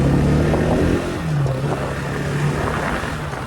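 A motorbike ridden in the evening near a Jagannath temple, its engine droning steadily close by with a slight shift in pitch partway, plus wind rush and no talking.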